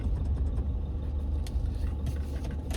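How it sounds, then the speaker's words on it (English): Cars on a quiet Sunday country road, heard from inside a vehicle with the window open as a steady low engine and tyre rumble, with no talking. "We've got a few cars there."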